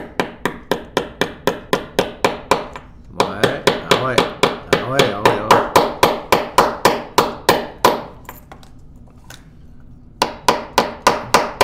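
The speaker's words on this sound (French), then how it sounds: "Es-tu capable de taper dessus avec... prendre une petite paire de pinces, t'improviser un marteau?" Small pliers used as a makeshift hammer tap repeatedly on a sleeve while fitting a European plug adapter, giving a steady run of sharp, close metallic knocks with a short pause midway and a person speaking briefly over them.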